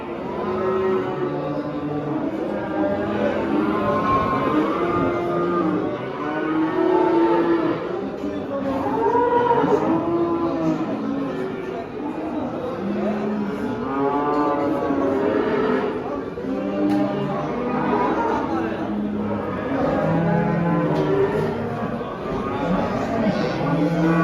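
Many cattle, including Holstein cows and heifers, moo almost continuously at the Havza livestock market, overlapping calls near and far over a steady crowd hubbub with people talking throughout.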